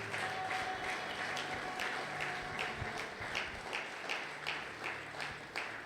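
A church congregation at a Sunday praise and thanksgiving service claps rhythmically together, a steady run of sharp claps at moderate distance with crowd noise beneath, fairly faint overall.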